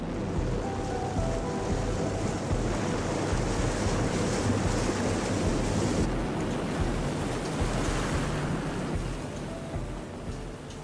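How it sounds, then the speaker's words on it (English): Strong wind buffets the microphone over a steady roar of rough sea waves at a salt-making coast, a continuous dense wash of surf and gusts with no speech. "Today's wind and waves are stronger than usual."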